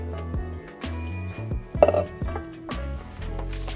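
Asparagus spears are dropped into a cooking pan, with several clinks and clatters of metal pan and utensil against a background hum, near and moderately loud.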